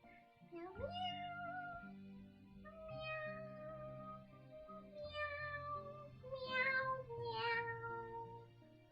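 A person sings a string of cat-like meows in their own voice, imitating a cat, with several drawn-out, pitch-bending notes in sequence over a steady low drone, close and fairly loud.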